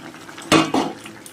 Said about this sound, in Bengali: চিংড়ি মাছগুলো এবার আমি দিয়ে দেবো।